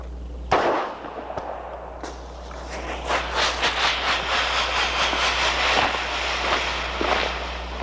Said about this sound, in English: it is possible to fire tear gas grenades, flares or signal rockets with a live round